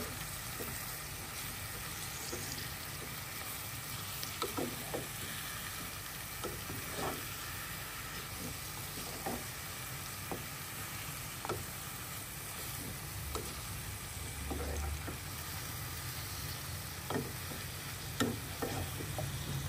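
Shrimp with taro stolons fry in a pan under a faint, steady sizzle, broken by soft, scattered clicks of stirring at irregular intervals, with no voices.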